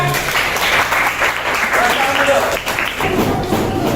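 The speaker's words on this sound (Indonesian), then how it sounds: "Beri apresiasi dulu, tepuk tangan semuanya" Classroom students applaud after a group discussion during a teaching-practice lesson on magnets, with steady clapping filling the room and some voices mixed in.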